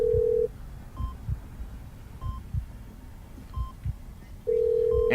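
Telephone ringing, two long steady electronic ring tones at the start and end with a low throbbing hum and thuds in between, heard clearly with no talk.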